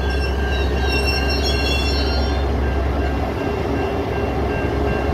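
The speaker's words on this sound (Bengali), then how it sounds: "আর ট্রেন আসলে এরকম আওয়াজ হতে থাকে।" A local double-decker train rolls into a station, a loud steady rumble of wheels and cars with high whining tones that fade partway through, continuous and close throughout.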